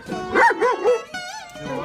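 A dog barks and yips in a few quick, close bursts mixed with whimpering, with a person's voice also audible in the short exchange.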